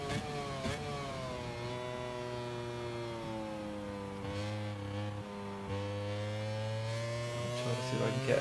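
Engine whine from a motorcycle in the racing video game MotoGP 25 holds a steady high-revving drone that rises in pitch near the end, with a faint voice underneath.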